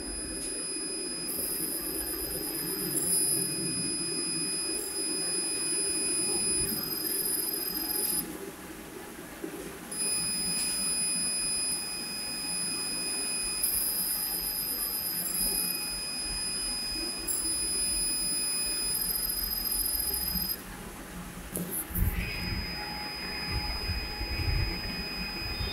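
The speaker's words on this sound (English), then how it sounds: "You can see the motor in operation." An STM32F4-controlled brushless DC motor runs steadily with a thin, continuous electronic whine and high tonal hum, its pitch shifting in a few steps over about 25 seconds, with no voices.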